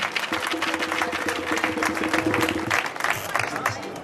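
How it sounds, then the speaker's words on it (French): A hall audience at an inauguration applauds loudly and steadily, dense clapping filling the clip with some voices mixed in. "on l'applaudit très fort, s'il vous plaît"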